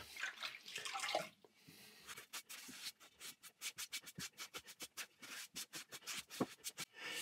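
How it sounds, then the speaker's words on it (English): A damp sponge or cloth rubs rhythmically over a wheel-thrown ceramic sink with just a little water, producing close, repeated swishing strokes that quicken into a steady scrubbing pattern. "So we're just going to clean it. Not too much water, because it needs to be dry before we glaze."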